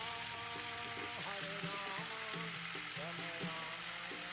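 Turmeric and other spices sizzle in a kadai with a splash of water, a steady close bubbling fry that holds evenly throughout with light stirring scrapes, no one talking.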